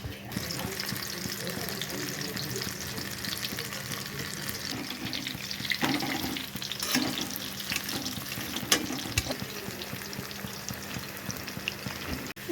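Potato pakoras deep-fry in hot oil with a dense, continuous bubbling sizzle, close and steady for about twelve seconds, with a few faint clinks and bumps mixed in.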